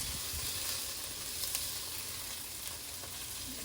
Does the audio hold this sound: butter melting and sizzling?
yes